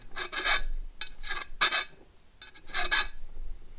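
Hand file sharpening a machine part, five rhythmic raspy strokes of metal on metal, each a short scraping burst with brief pauses between, close and clear with no talking.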